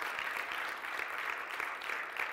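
A church congregation claps together during a fasting and prayer service, a dense, continuous wash of hands with a faint rhythmic pulse, moderately distant.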